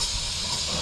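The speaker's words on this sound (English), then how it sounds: "I'm going to clean this up with O'Reilly brake cleaner." O'Reilly brake cleaner sprays from an aerosol can onto a Chevy Impala engine during a radiator replacement, a single loud, continuous hiss close by.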